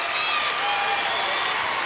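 Applause from the crowd at a 1997 girls high school basketball championship game, a steady dense wash of clapping filling the gym for a couple of seconds, with faint voices mixed in.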